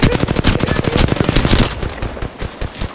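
Rapid automatic gunfire in a video game shooter, a loud sustained burst of evenly spaced shots that slows into scattered single shots toward the end.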